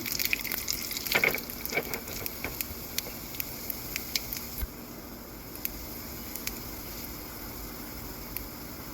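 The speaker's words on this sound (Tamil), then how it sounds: "இது ரெண்டும் நல்லா பொரிஞ்சு வந்ததும் இப்போ நல்லா பொரியுது" Urad dal and chana dal fry in hot oil for gram dal chutney, making a steady close sizzle with scattered small pops and crackles that continue throughout.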